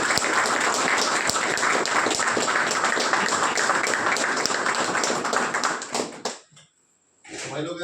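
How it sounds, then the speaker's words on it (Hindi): Loud, dense clapping from an audience at a recovery birthday celebration at a rehab center, sustained for about six seconds before quickly tapering off into near silence, then a faint return of sound at the end. "तो एक बार यार जोरदार तालियां हमारे पास।"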